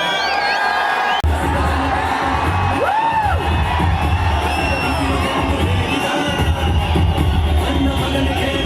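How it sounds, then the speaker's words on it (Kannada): An audience at a stage event cheers and applauds, a loud, dense crowd roar with whoops and shouts that swells up and holds steadily throughout. "ಸೊ ಬನ್ನಿ ಚಪ್ಪಾಳೆ"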